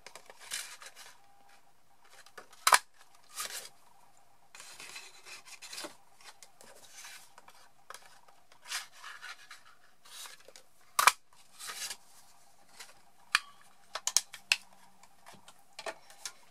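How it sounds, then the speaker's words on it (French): Scattered sharp snaps and crisp rasping cuts from a 2-inch paper punch working through sheets of colored paper, heard close and alone with quiet gaps between strikes. "Ces papiers de couleur, nous allons les découper avec la perforatrice 2 inches."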